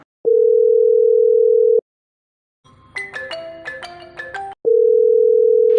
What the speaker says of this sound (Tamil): ஃபோனு ரிங் ஆகிட்டே இருக்கு, எடுக்க மாட்டேக்கால.